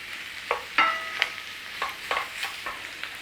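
Steak bites sear in oil and butter with a constant low sizzle, cut by a string of sharp spatters and clinks of a utensil moving the meat around the pan, close up and with no talking.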